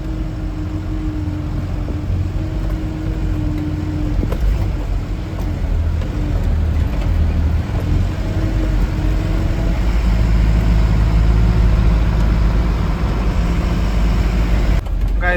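A truck engine rumbles low and steady while driving on a road at night, a continuous heavy drone that swells slightly louder toward the end, with no speech.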